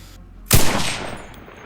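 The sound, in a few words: rifle shots in the video game Enlisted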